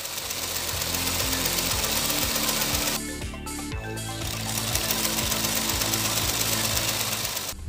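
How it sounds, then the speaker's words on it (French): A homemade Stirling engine built from easily available materials runs steadily, its loud, rapid mechanical knocking and rattling continuing without a break and without any voices. "Ce moteur Stirling maison a été construit à l'aide de matériaux facilement accessibles."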